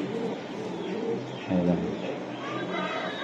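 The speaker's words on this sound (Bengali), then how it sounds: "এই যে কবুতর," Giribaz high-flying racing pigeons cooing at a pigeon seller's in Old Dhaka, soft low coos repeating through the clip with a louder burst midway, under steady background chatter.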